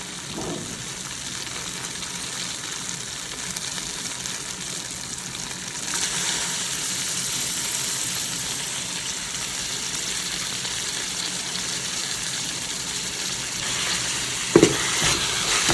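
Coriander and mint frying with ginger garlic paste in a pan on a low flame, a steady soft sizzle with occasional stirring, fairly quiet and close, and a brief clink of a utensil near the end.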